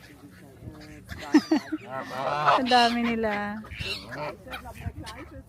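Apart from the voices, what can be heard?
ducks being fed in a park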